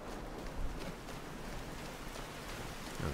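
Steady rain in Skyrim falls as an even, continuous hiss of drops, quiet and unbroken across the short stretch with no voices.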